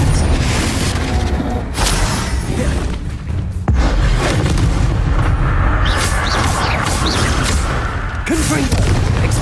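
Confringo blast spells in the Hogwarts Legacy video game going off repeatedly, loud booming explosions and thuds in a dense, continuous barrage of combat noise.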